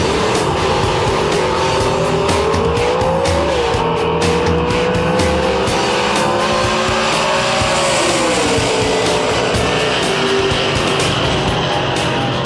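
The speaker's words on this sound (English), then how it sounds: "there's nothing quite like a nostalgia drag racing event" Nostalgia drag racing cars roaring loudly at a drag racing event, a continuous thick engine blare with rising revs and tire squeal, close and overwhelming, no voices.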